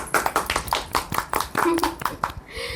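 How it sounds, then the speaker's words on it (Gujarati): Hands clap in quick, even rhythm for Dharmik at a village farm, about a dozen sharp close claps in under three seconds, with a brief voice in between. "ચલ તો દોસ્તો અમારે ધાર્મિક માટે તાળીઓ પાડીએ"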